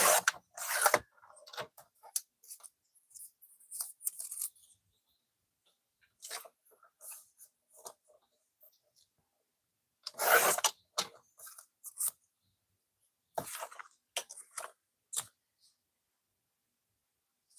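Paper being trimmed for a handmade Christmas mini journal comes through as intermittent dry scraping and cutting strokes in short bursts, close up, with quiet pauses between them.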